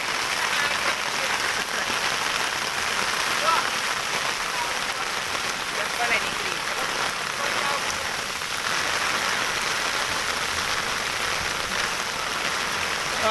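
Heavy monsoon rain pours steadily in a village, a dense, continuous hiss of drops on surfaces that stays loud and even throughout with no break.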